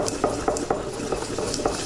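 Mexican oregano and spices are ground in a stone molcajete, the pestle scraping and knocking in a quick, regular rhythm of gritty strokes, close and moderately loud, with nobody talking.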